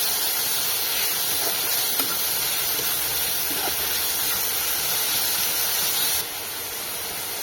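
Leafy greens fry with salt in a pan, giving a steady close sizzling hiss that runs unbroken and then drops slightly in level near the end.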